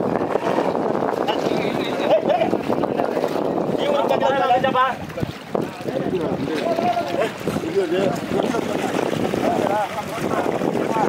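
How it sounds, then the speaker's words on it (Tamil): A large fishing boat's engine drones steadily throughout at the seashore, blended with wind buffeting the microphone, splashing water and people talking nearby. "அந்த போட்டு இன்ஜின் ஸ்டார்ட் பண்ணிட்டாங்க."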